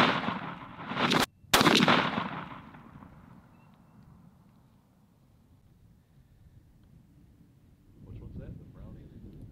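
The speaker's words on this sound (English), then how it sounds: "I will be shooting the old Remington 870" A Remington 870 shotgun with a Patternmaster Code Black turkey choke fires a single Browning TSS turkey load, one loud sharp blast with a booming tail that fades outdoors, followed later by faint talk.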